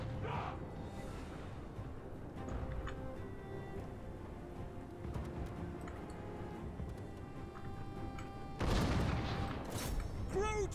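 A great cannon fires during a battle in the video game Total War: Warhammer 2, with a loud sudden booming burst near the end over a busy background of clatter and scattered impacts.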